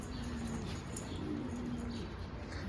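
Young posta pigeons cooing softly in a low, steady murmur, faint and continuous over a dull background hum with no talking.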